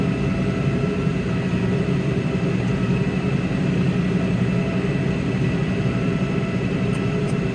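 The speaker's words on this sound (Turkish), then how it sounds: "Buraya gelince traktör biraz zorlanmaya başlıyor ya" A TR6 tractor labours up a muddy slope on a fallow field, its engine giving a loud, continuous low drone that holds steady and close throughout.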